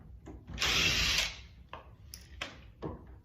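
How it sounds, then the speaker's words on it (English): A power drill unscrewing screws from a front door handle: one short whirring burst, followed by faint clicks and light handling of the hardware, quiet and close. "And then go ahead and take these screws out."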